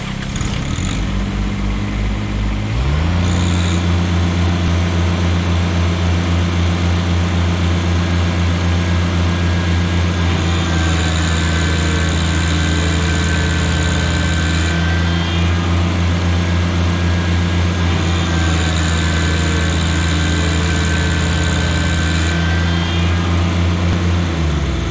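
Two compact tractors, a Kubota BX and a John Deere 1-Series, run at full RPM in four-wheel drive low range with diff lock, giving a loud steady diesel drone with a constant low hum.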